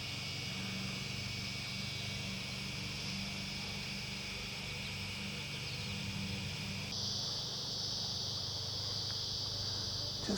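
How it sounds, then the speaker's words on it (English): A dense chorus of cicadas drones steadily in the open air, loud and continuous, with a shrill band that shifts pitch partway through as other insects join in. "Just listen to all the cicadas."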